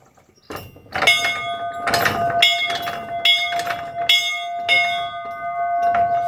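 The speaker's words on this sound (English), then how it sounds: "that's a bell" A salvaged metal bell is struck repeatedly in an irregular rhythm, each clear ring sustaining and overlapping the next, loud and close with no talking.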